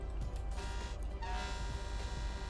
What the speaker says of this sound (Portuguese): Caraca, buzina é essa?